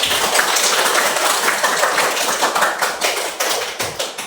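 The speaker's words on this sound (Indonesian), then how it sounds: "kasih aplaus untuk kita semua" Classroom applause from a group of fourth-grade students at the close of a science lesson, a steady wash of many clapping hands that grows more uneven and sporadic toward the end, with no talking over it.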